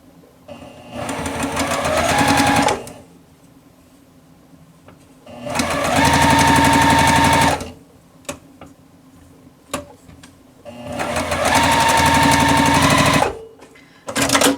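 A sewing machine stitches a quilt block seam in three loud, steady runs of a few seconds each, the motor's whir and needle chatter separated by quiet pauses with faint handling clicks.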